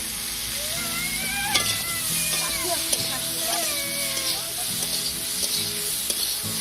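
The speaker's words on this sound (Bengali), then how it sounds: "হলুদ আর লবণটা দিয়ে একটু নাড়াচাড়া করে নেব। বেটে রাখা আদাটাও দিয়ে দিচ্ছি।" Vegetables for a Bengali vegetarian mixed-vegetable temple offering stir-fry with turmeric, salt and ginger paste, giving a steady close sizzle with scraping stirs. Background music plays over it.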